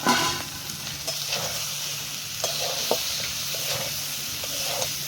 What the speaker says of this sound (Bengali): এইবার এর মধ্যে চিংড়ি দেবে।